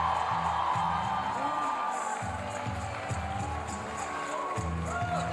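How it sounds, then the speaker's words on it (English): A conference hall audience claps and cheers at an International Women's Day event, a steady loud wash of applause and whoops with music thumping underneath. "Keep clapping, keep clapping, keep clapping"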